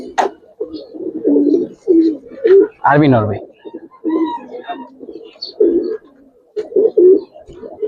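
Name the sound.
Giribaz and coloring pigeons cooing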